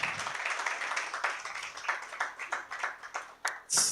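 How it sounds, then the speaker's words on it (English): A small audience claps for a debate team at a youth climate justice debate at a Ugandan university, a patchy, thinning round of applause with individual claps standing out near the end. "Let's give them a round of applause."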